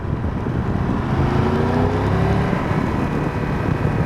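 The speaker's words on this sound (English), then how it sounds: "And that noise of that engine," A 2024 Triumph Tiger 1200 GT Pro with its T-plane triple engine droning steadily while riding, loud and continuous with a low tonal hum that rises in pitch briefly, overlaid by wind rush.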